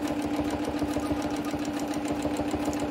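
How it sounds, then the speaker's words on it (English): Domestic sewing machine free motion quilting on the white reverse side of fabric, a steady fast needle chatter running continuously at close range with no talk. "This time I'm going to sew on the reverse of my fabric, the white side"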